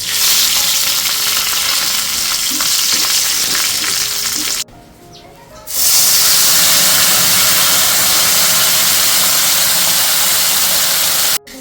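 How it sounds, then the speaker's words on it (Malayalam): Mustard seeds crackling and sizzling in hot oil for a Kerala yam stem sambar tempering with dried red chilli and curry leaves, a loud steady hiss that drops out for a moment, then surges back even louder. "അപ്പം നമ്മുടെ എണ്ണ ചൂടായിട്ടുണ്ട് കേട്ടോ ഇതിലേക്ക് ഞാൻ കടുക് ചേർക്കുകയാണേ"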